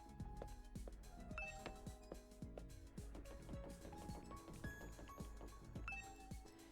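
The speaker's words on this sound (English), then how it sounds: "Ring the doorbell. Ding dong, ding dong, ding dong, ding dong." Doorbell chimes from the video game The Hundred Line, several bright ding-dong tones ringing out over a busy layer of game music and clinking effects, steady and fairly loud throughout.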